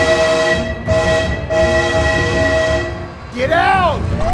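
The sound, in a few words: train passing in BeamNG.Drive video game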